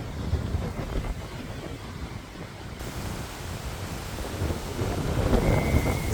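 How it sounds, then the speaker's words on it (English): Strong wind roars and buffets the microphone at a seaside spot with the tide in, a loud, continuous rushing that swells toward the end. "It's super windy here."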